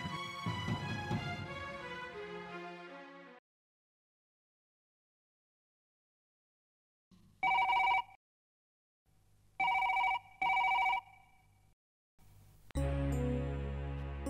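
A phone rings out on an outgoing call in a Bangla drama: three short, steady electronic ring bursts with silent gaps, framed by music before and after.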